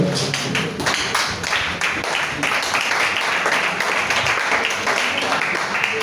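A church congregation applauds together, a dense continuous roar of many hands clapping at fairly close range, loud and sustained with a few voices mixed in underneath.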